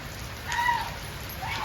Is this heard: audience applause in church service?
no